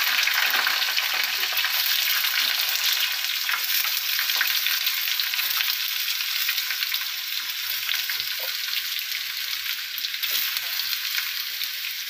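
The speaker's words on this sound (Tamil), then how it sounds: "உருளைக்கிழங்கு சேர்த்துட்டு இப்போ நல்லா வதக்கி விட்டுடலாம்." Potatoes sautéed in a pan with curry leaves, producing a loud, continuous, dense sizzle that holds steady throughout, with faint stirring ticks underneath.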